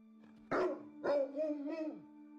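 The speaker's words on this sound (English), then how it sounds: "Ah, a nice dog." Two close, clear barks from a dog in the Black Legend video game, a sharp first bark followed by a longer, drawn-out one, heard alone over a steady low game-music hum.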